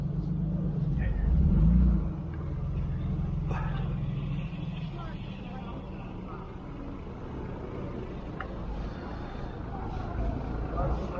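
Street traffic with convertible BMWs passing, a continuous low engine rumble that swells briefly early on and then holds steady, with people talking over it.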